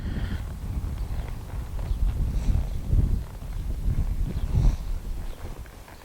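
A ridden horse side-passing with forward momentum, soft repeated hoofbeats on the ground in an uneven rhythm, close and moderately loud under steady wind noise.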